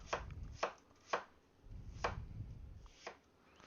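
A knife roughly mincing a yellow onion on a cutting board, with sharp, evenly spaced chops close by, about six distinct strikes over a soft background, no voices.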